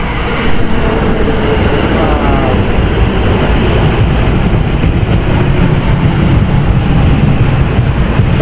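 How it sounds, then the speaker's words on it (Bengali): A train pulls into a station in Japan, its loud, steady rumble and rolling wheel noise filling the whole span without a break. "ট্রেন আসছে"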